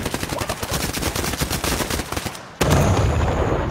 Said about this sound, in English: The fucking detective shot me!